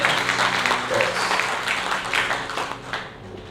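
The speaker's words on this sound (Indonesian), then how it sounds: "kita tepuk tangan untuk Tuhan" A pastoral conference audience claps for Jesus, a fairly dense round of applause from a large room that gradually thins and fades toward the end.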